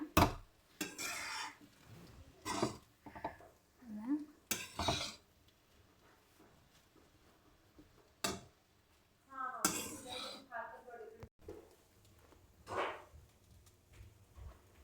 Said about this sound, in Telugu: రైస్ వేసి మిక్స్ చేస్తున్నా